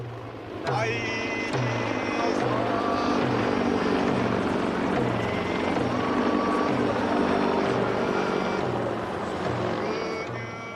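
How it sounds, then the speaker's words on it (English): Low-flying American military helicopters circle over Okinawa with a loud, continuous rotor roar and a steady pulsing beat. A voice speaks over the noise. "giant American helicopters circled above us, intimidating as always"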